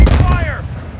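Gunfire from a modern military shooter, Call of Duty: Modern Warfare II, as a loud burst of close shots with booming low-end impact and a ringing tail that fades over about a second.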